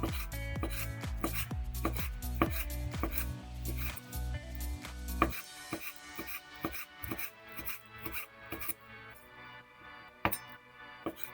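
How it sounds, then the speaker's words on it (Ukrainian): A knife slices prunes into strips on a board, a run of quick cuts followed by quieter, softer slicing strokes nearby. "Чорнослив нарізаю смужечками."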